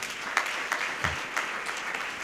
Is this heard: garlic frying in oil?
no